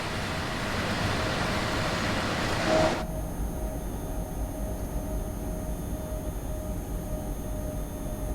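A double-headed locomotive train in Train Sim World 4 runs on the Wien Stadlau to Buchs route with a loud, continuous rolling rumble. Its tone shifts abruptly partway through, leaving a thinner, steadier drone.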